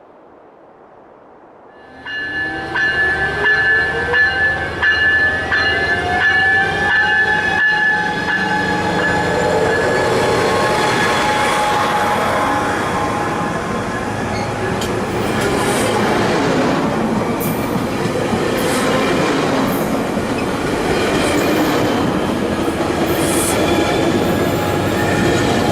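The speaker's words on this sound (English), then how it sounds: "The train finally is ready to go and does so." An SC-44 Charger passenger locomotive in the Trainz railway game pulls away from a station, a steady rumble rising in from near silence with whining tones, wheel squeal and clanking carrying on loud and unbroken.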